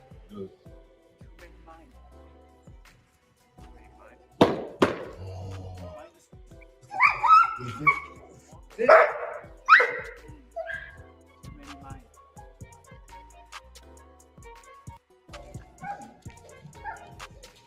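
A big dog lets out several loud barks and yelps in the middle stretch, with softer whimpers and scattered quieter sounds before and after, while someone speaks nearby.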